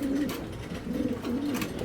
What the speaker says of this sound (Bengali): 2টাই বেজি কবুতর